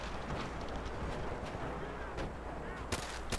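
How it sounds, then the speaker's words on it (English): Artillery fire in the Call of Duty: World at War castle level, with dense, continuous booming gunfire and explosions, loud and close, plus a couple of sharp cracks near the end. "Enemy artillery!"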